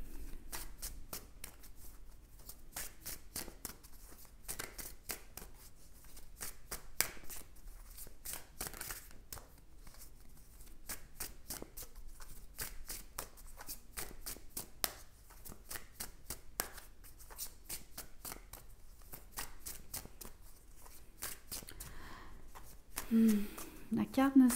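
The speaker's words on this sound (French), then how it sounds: "Le fait de tirer ces cartes et qui tombent partout." Tarot cards shuffled by hand in a steady run of crisp riffling flicks and soft slaps, fairly quiet and close, continuing throughout with a brief handling rustle near the end.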